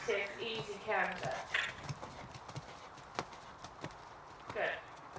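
A horse canters around an arena, its hooves striking the floor in a steady, rhythmic series of dull thuds. A person talks over the hoofbeats at the start and near the end.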